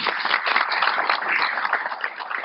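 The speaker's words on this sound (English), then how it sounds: "A round of applause to the good professor." Applause for a professor after a lecture on economic recovery, a brief, dense burst of many hands clapping, heard close and fairly loud with a slightly muffled, band-limited tone.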